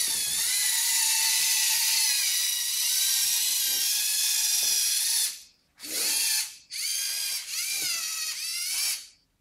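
A toy robot's spinning saw mechanism whirs with a high, grinding ratchet-like buzz, running steadily for several seconds before breaking into a few short stop-and-start bursts, loud and close.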